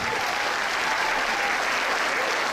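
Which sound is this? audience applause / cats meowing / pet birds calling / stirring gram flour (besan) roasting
audience applause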